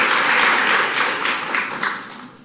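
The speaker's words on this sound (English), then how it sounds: "Let's give them all a round of applause." Audience applause for the White House chefs at a Nowruz event, a dense burst of clapping that gradually fades over a couple of seconds.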